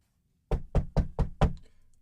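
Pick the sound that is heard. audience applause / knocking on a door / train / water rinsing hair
knocking on a door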